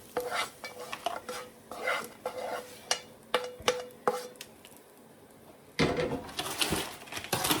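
Broccoli rabe with red pepper flakes is tossed in bacon grease in a pan. A spoon scrapes and clatters against the metal in quick rhythmic strokes over a faint sizzle. After a short lull, a burst of louder stirring follows.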